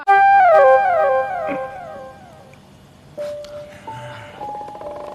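A dog howls loudly with long, wavering, sliding tones, then tapers off as fainter whimpers and higher yips follow.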